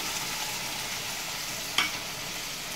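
Spice paste frying with onions in a pan for a fish curry, an even, moderately loud sizzle throughout with one brief sharp pop or clink near the end, no talking.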